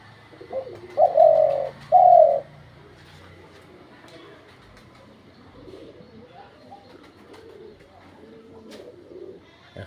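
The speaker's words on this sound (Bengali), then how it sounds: "ডাক দিতে বললেই সে ডাকবে" A decoy hunting bird calls on command with two loud, close cooing notes early on, then falls quiet under soft background murmur and faint rustling.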